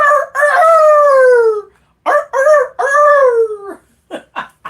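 A rooster crows loudly and up close, two long drawn-out cock-a-doodle-doo calls with a short gap between them, followed by a few brief clucks, used as a game-show sound effect.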